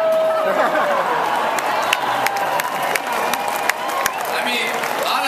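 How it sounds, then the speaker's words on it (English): Large stadium crowd applauding and cheering in a dense, roaring wash, with scattered sharp claps, a whistle-like tone early on and a speaker's voice partly audible over it. "it feels really good to get an applause in this stadium"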